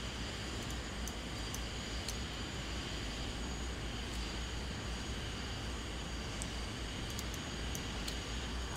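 Airplane taxiing in Flight Simulator X, a steady, even engine roar and broadband rush with faint, repeated high ticks on top, constant in level throughout and without speech.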